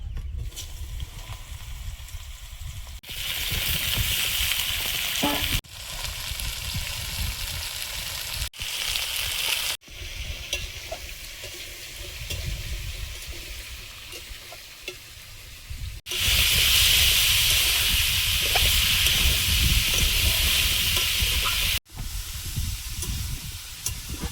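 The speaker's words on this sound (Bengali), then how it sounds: "উচ্ছে আলুটা ভেজে নেব" Bitter gourd and potato fry in a pan with a steady, close sizzle and bursts of stirring. The loudness rises and falls in sections, and no one speaks.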